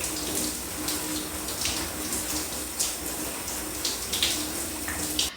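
Shower water pours steadily over drenched hair as it is washed and detangled, a close, continuous hiss and splash with small shifts in the flow and no talking.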